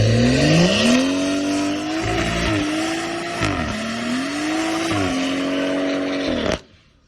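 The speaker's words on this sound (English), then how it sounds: "Exhaust note. Definitely now with the downpipe and midpipe." A car fitted with an aftermarket downpipe and midpipe, its exhaust droning loudly and close, rising and falling through several revs and gear changes before cutting off abruptly near the end.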